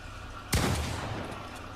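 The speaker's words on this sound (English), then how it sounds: "I downloaded just a regular pump shot sound effect, which sounds like this" A single pump-action shotgun blast, a loud sharp crack with a boomy low tail that rings out and decays slowly over about a second.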